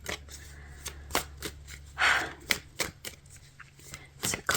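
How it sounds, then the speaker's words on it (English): Tarot cards being shuffled by hand in repeated riffling bursts, close and fairly quiet, while a voice speaks softly now and then. "as I'm shuffling out your cards"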